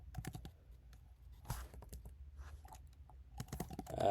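Quiet typing on a computer keyboard while entering code, irregular clusters of soft key clicks with brief pauses between bursts.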